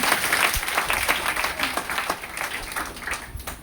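Audience at a motivational business seminar applauding together, a steady wash of many hands clapping at moderate level without a pause.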